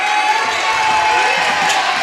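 The Waltonville crowd at a basketball championship game cheers in a loud, sustained roar of shouts and whoops, with a sharp whistle-like tone running through it.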